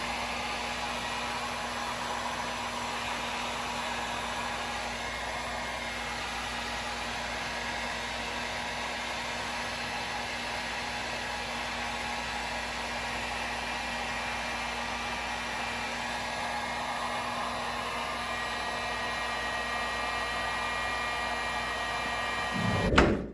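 A heat gun shrinking heat shrink tubing over a wire repair on an outboard engine, a steady close blowing whir with a constant tonal hum running unbroken, ending in a brief clunk.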